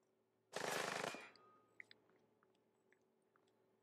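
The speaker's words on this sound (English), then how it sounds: "You're shooting at me." Gunfire from the video game Splinter Cell: Blacklist, a single loud rapid burst lasting about half a second, followed by faint scattered clicks and small sounds.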